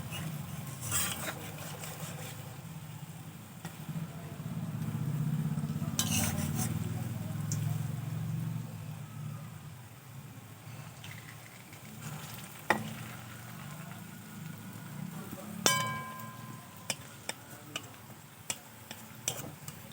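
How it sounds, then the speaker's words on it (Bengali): Sweet potato pantua sweets frying in oil while being stirred, a steady low bubbling fry in the first half, then quieter with sharp utensil clicks and pan taps toward the end. "এভাবে কিছুক্ষণ নাড়াচাড়া করে আমি মিষ্টিগুলো ভেজে নেব।"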